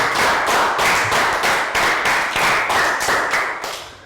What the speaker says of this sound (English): High five. Round of applause.